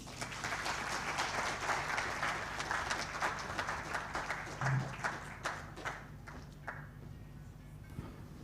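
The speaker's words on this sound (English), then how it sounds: "another round of applause for the chair" A crowd at an MTN Uganda corporate event applauds steadily, many hands clapping in a dense wash that fades a little toward the end.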